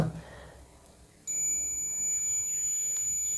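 A multimeter in continuity mode gives a steady, high-pitched electronic beep that starts abruptly and holds unbroken for about two seconds, close and clear over faint room noise.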